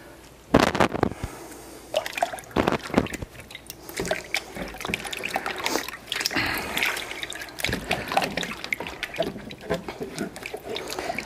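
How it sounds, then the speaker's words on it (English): Tap water runs over tomatoes being rinsed clean of dirt and residue, a steady close splashing and trickling with uneven bursts as the produce is turned under the flow, while a voice talks alongside. "just rinsing off any residue from the outside, little dirt,"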